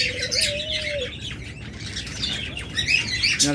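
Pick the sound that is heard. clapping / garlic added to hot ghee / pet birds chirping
pet birds chirping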